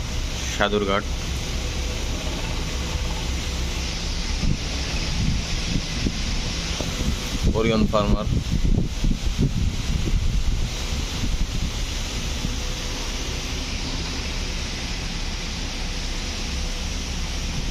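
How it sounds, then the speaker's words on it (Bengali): Strong wind from Cyclone Remal on the Shitalakshya riverbank in Narayanganj at night, with rain, a constant heavy roar buffeting the microphone, while someone talks over it. "বৃষ্টি মাঝে মধ্যে কমছে মাঝে মধ্যে বাড়ছে কিন্তু বাতাস বয়ে চলেছে"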